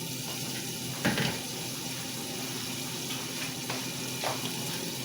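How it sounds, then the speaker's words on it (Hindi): Half a cup of water is poured into a mutton and taro (arbi gosht) masala, a steady running, trickling wash with a couple of louder splashy bursts, fairly close and with no talking. "इसके अंदर मैं आधा कप पानी ऐड करूँगी"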